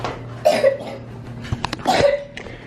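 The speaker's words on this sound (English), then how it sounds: "You can probably hear coughing too." Two harsh coughs, close by, separated by a short pause, with faint background noise.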